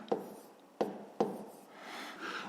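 A pen writing on paper during a math exercise, a few quick strokes with brief taps and scratches, faint and close.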